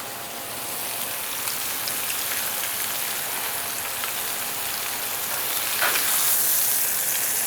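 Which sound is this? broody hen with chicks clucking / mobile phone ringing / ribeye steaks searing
ribeye steaks searing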